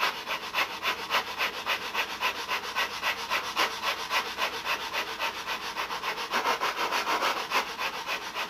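The wooden tips of a Nobler control-line model plane are trimmed and sanded in quick, regular back-and-forth rasping strokes that carry on steadily, close and fairly loud.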